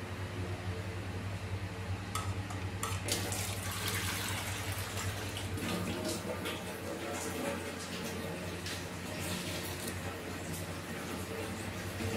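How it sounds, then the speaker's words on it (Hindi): Water pours and splashes steadily into a cooking pan for kaddu (pumpkin) sabzi for several seconds, nearby, over a low electrical hum, with no voices. "इसमें डालेंगे थोड़ा सा पानी।"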